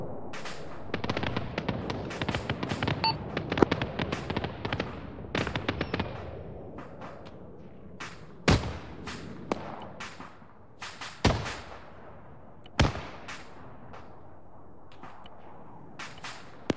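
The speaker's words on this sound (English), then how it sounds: "I'm going to get some mortar fire hit." Mortar fire in Arma 3 lands as a run of sharp, loud explosions. Dense blasts cluster early, then isolated booms follow at irregular gaps over a quiet background.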